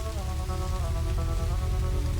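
Steady rain falls and patters across the scene in the video game Kathy Rain, with sustained eerie musical tones playing over it.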